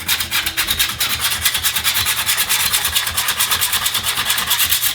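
Steady back-and-forth rubbing scrapes rust off a metal engine part before painting, a rhythmic, close, gritty swish repeating several times per second without pause.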